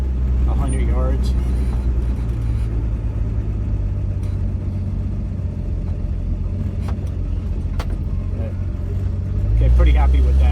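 A 1966 Dodge Dart GT with new leaf springs and no muffler or tailpipe rolls over a series of speed bumps, its engine a loud, low, continuous rumble with faint knocks and a surge near the end.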